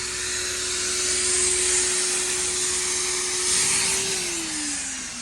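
A loud pool blower roars continuously while air is pushed through swimming pool lines during winterizing, a steady close whine with a sustained tone that dips in pitch near the end.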